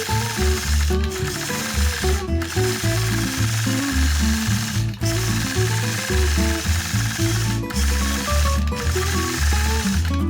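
A quilting sewing machine stitches hand-guided feather designs across a quilt, its rapid mechanical needle chatter running loud and close with brief pauses and changes in speed.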